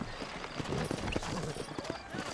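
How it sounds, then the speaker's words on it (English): Horse hooves clip-clopping in the Western video game Red Dead Redemption, a steady rhythmic trot at close range mixed with game ambience and a brief voice. "You ain't gonna find sturdier horses than these in all of New Office."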